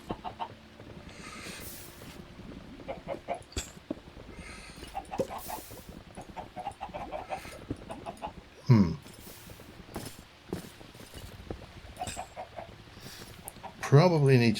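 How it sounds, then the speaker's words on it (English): Chickens in a farming video game cluck and squawk in scattered bursts, with short game effects and light footstep-like clicks mixed throughout at moderate level. "what to do about these rogue chickens"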